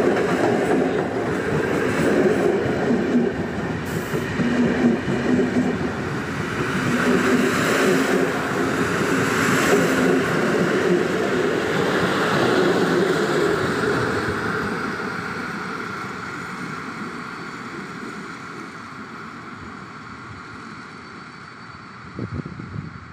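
An EP07-400 electric locomotive hauls a delayed Regio train from Szczecin Główny toward Kołobrzeg past a station near Goleniów, its rolling rumble and wheel noise swelling as it passes close by, then gradually fading away.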